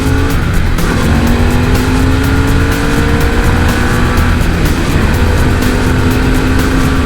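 Loud, close motorcycle engine revving hard and continuously, with rising and falling pitch sweeps as it accelerates through gears on a ride.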